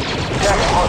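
Sustained blaster gunfire from the Star Wars Republic Commando video game, a dense continuous burst of rapid shots lasting about a second.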